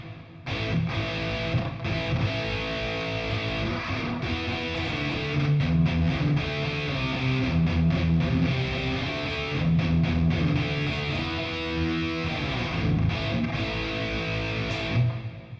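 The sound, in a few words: guitar with hall reverb effect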